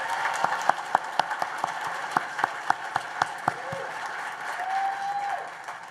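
An auditorium audience at a school centennial celebration claps with sharp, distinct individual claps over a softer spread of applause, then settles into a quieter murmur with a brief whistle-like tone near the end.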